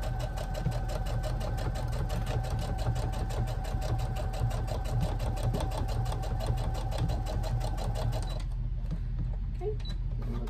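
A sewing machine stitches straight across the bottom of a gown in a fast, even mechanical chatter, close and steady for about eight seconds before stopping abruptly, leaving quiet room tone.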